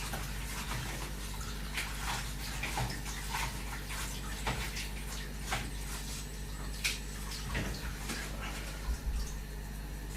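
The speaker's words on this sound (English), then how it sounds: "Run them under cold water, get your hands in there, just move it around" Cold tap water running over sliced leeks in a kitchen, a steady splashing stream with scattered drips and clatter as the pieces are moved around by hand, close and continuous.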